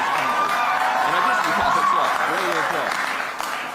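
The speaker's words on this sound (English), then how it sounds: "worthy of applause" A crowd at a March for Life rally in Washington applauds in a steady, dense wash of clapping, with cheers and a little laughter mixed in.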